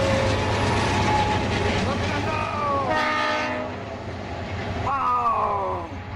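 A fast train rushes past on the Los Rios District line with a continuous heavy rumble, and its horn sounds in bent, blaring blasts midway and near the end, loud and close.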